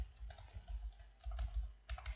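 Someone types an email on a computer keyboard: quiet, close clicks of keystrokes in uneven bursts with short pauses between them, and nobody speaks.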